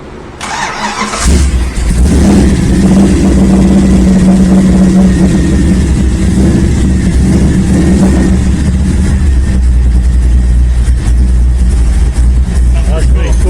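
A 1958 Edsel Ranger engine cranks briefly and catches, then holds a loud, rough, continuous rumbling idle with revs rising and falling close by, while someone talks over it.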